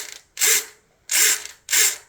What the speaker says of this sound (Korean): 이게 이제 플랩이 돌아가는 소리입니다